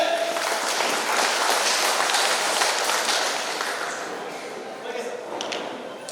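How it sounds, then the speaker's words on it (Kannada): An audience claps loudly and continuously for Chandra sir at a giveaway programme event, a dense close burst of applause that holds steady and then tapers slightly toward the end. "ನಮ್ಮ ಚಂದ್ರ ಸರ್ ಜೋರಿಗೆ ಚಪ್ಪಾಳೆ"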